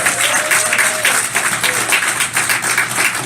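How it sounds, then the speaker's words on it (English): An audience at a men's panel gives a round of applause, a dense, even wash of many hands clapping that holds steady and loud throughout, with faint voices mixed in. "How about a round of applause?"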